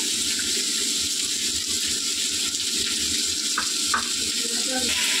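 Mustard paste sizzles and crackles in a hot frying pan, a steady, fairly quiet frying hiss with a couple of brief sharper spatters partway through.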